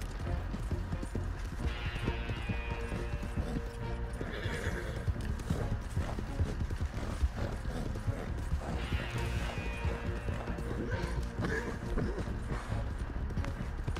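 A horse's hooves clip-clopping in the Red Dead Online video game, a steady close rhythmic clatter over a low rumble, with whinnies rising now and then.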